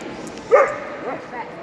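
At an international purebred dog show in Lublin, a dog gives a single sharp bark followed by fainter yips, close by, while a handler talks in the background.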